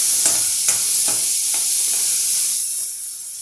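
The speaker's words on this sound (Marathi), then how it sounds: "आता आपण याच्यामध्ये हे कांदे टमाटे टाकून देणार आहोत आणि हे व्यवस्थित हलवणार आहोत" Onions and tomatoes stirred in a hot frying pan, a bright steady hiss of sizzling with a few soft spoon scrapes early on, fading slightly at the end.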